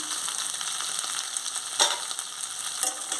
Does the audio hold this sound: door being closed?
no